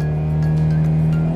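A car engine, being checked for a faulty mass air flow sensor, runs steadily close by with a loud, even hum and no clear rise in revs.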